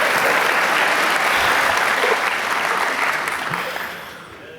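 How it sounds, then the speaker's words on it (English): An audience at an evening church event gives a dense, sustained round of applause that fades gradually toward the end. "Please clap."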